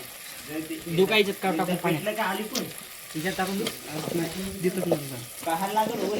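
Rice and oil sizzle and crackle in a frying pan, with stirring throughout and someone talking over it the whole time.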